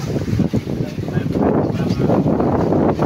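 Wind blows steadily across open sea near a group of service boats, a continuous, rough, rumbling rush that buffets the microphone loudly throughout.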